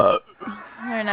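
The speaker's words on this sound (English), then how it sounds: "Sorry, I had to burp." A single deep, drawn-out human burp, close and fairly loud, with a voice heard briefly before it.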